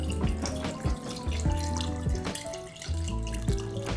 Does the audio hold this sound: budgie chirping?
no